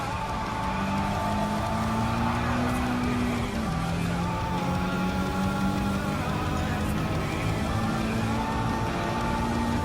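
A Honda Civic Type R Limited Edition (FK8) racing engine in Gran Turismo 7 drones steadily through a time trial, pitch rising and dipping with gear changes, loud and continuous with faint tire noise.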